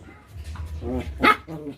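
Small dogs yip and bark in short, excited bursts close by, with a few playful growly barks in quick succession.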